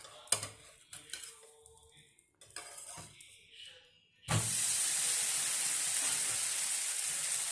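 A soft dosa is flipped on a hot griddle over medium flame: a few metallic spatula scrapes and clinks, then a loud, steady sizzle breaks out and holds.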